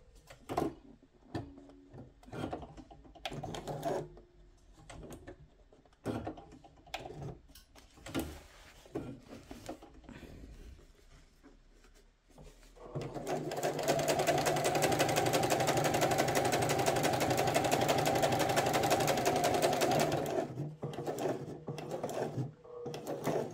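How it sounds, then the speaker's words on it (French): A sewing machine stitches a trouser pocket. Scattered handling clicks come first, then a steady whirring run of stitching lasts several seconds before stopping. "je couds jusqu'à sortir de la poche"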